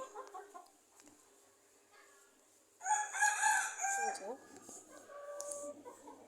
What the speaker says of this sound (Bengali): আমার বারান্দার ভিতরে আমি খাঁচা বানানো হয়েছে, এগুলোর ভিতরে আমি মুরগি পালন করি